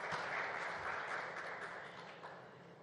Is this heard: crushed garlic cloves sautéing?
no